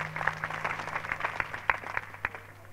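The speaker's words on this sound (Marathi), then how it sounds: "जोरदार टाळ्या होत्या बघा" Applause from an audience at a Marathi kirtan gathering, with irregular claps spread across the clip over a steady low hum. The clapping is moderate in density and holds at a fairly even level.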